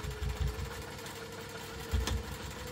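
A sewing machine stitching a double line on a crossbody bag, running in two short bursts of rapid low chatter at the start and near the end, with a quieter steady hum between them.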